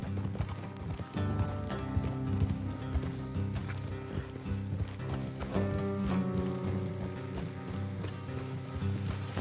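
Rhythmic hoofbeats clip-clop steadily from horses moving at a walk in Red Dead Redemption 2, with faint music and creaking tack behind them.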